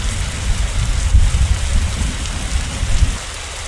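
A heavy storm in the Evie horror game: steady, loud rain pours down with deep rumbles of thunder rolling underneath, with no one speaking.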